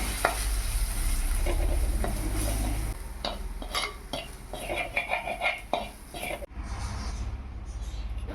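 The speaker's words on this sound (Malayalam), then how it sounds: "മഞ്ഞൾപ്പൊടി, കാശ്മീരി മുളക് പൊടി, മല്ലിപ്പൊടിയും ചേർത്ത് നന്നായി വഴറ്റിയെടുക്കുക" Sautéing with turmeric, Kashmiri chilli and coriander powder in a pan: a soft sizzle under repeated close stirring scrapes and utensil clinks against the pan, with a brief quiet patch near the end.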